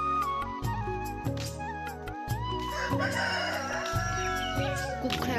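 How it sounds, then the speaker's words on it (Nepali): A rooster crows several times in loud, close, drawn-out calls spaced across the stretch, with clucking and other farm sounds faintly behind. "कुखुरा कराइरहेको छ, बाख्रा कराइरहेको छ।"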